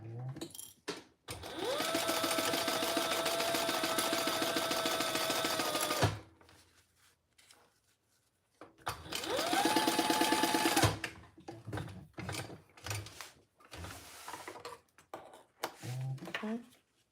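Sewing machine basting the right-sides-together lining of a triple sling in place, running in two long steady bursts with short quiet gaps and scattered handling sounds.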